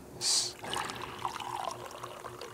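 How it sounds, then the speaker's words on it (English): A deep blue liquid poured into a glass: a brief bright splash at the start, then a soft, quiet trickle and dribble that runs on faintly with small clinks. "Here, I'll pour some into my glass."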